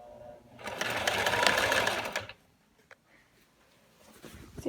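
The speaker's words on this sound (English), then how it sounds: "I'm just going to sew it all the way around the whole thing" A sewing machine stitches a ruffle onto a flat sheet, a steady close whirring run for about two seconds before stopping, followed by faint handling noises.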